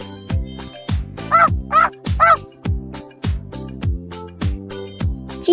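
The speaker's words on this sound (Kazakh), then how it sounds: "Қаз, қаздың балапаны." Goose and goslings in a children's cartoon about farm animals, giving a few short honking calls over a bouncy, rhythmic music beat that repeats throughout.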